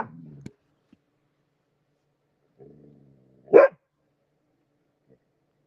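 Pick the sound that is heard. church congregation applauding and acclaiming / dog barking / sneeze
dog barking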